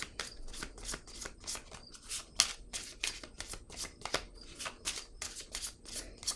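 A deck of tarot cards is shuffled for a card reading. The riffles are soft and rapid, quiet and close, and keep repeating steadily with no talking.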